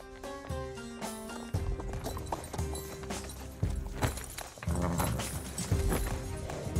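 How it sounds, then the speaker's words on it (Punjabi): Horse hooves clip-clopping in a Punjabi period film scene, rhythmic thuds repeating under a loud musical score, moderately close with no clear talk. "ਕਾਠੀਆਂ ਕੱਢੋ ਘੋੜਾ ਲੈ ਕੇ ਆਓ"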